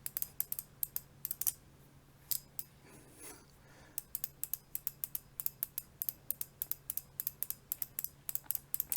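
A Ding Ding slider fidget toy clicks in quick, crisp bursts, making a light two-step clicking rhythm close up and alone. A brief quieter gap comes midway, then the clicking resumes.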